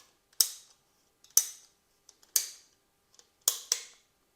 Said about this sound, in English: You can see that this jumps to a different notch each time as it starts going through.